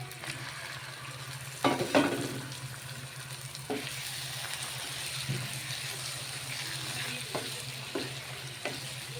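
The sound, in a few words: boti (goat tripe) stirred into sizzling masala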